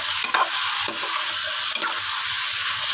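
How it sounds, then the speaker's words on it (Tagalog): Bottle gourd (upo) is stirred in a sizzling pan, with a constant frying hiss and a few sharp scrapes of the utensil spread across three seconds. "Haluin na natin yung ating upo."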